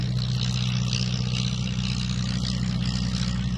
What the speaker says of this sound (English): That Cirrus uh, Hermes 115 horsepower engine taking that uh, uh, strikingly painted black and orange Desoutter monoplane into the skies.